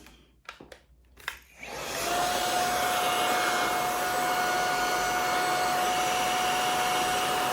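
A Hoover HF500 cordless vacuum cleaner in turbo mode gives a few clicks, then its motor spins up to a loud, steady whine with a thin high tone that holds close and unbroken.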